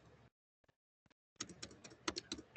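Keys clatter on a computer keyboard in a fast burst of close taps after a near-silent pause with a couple of isolated clicks.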